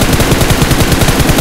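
Rapid automatic gunfire rattles loud and close as cover fire in the battle royale game BGMI, a dense steady stream of shots with no pauses across the clip.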